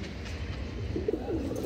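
A lively young pigeon from a breeding loft gives a short, soft coo close by, set against a quiet room murmur with no one speaking.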